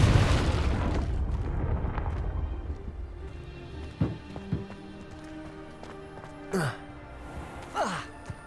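A fiery Confringo spell explosion from the Hogwarts Legacy video game bursts loudly at the start and fades into a rumbling tail, followed by a few short, sharp impacts and whooshing swells.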